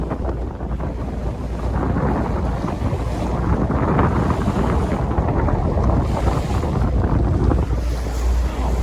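Steady rushing water and wind buffet the microphone, with engine rumble and waves from a boat moving along the Bosphorus.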